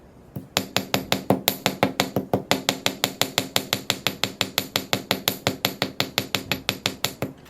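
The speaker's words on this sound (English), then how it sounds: "If you hold the hammer at more of a tilt," Steady, rapid hammer blows on silver jewelry links, about four to five sharp metallic strikes per second in an even rhythm, close and clear with no talking.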